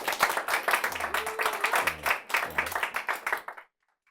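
An audience at a Korean leadership talk applauds, a dense burst of clapping lasting about three and a half seconds before cutting to silence, with a voice speaking over it.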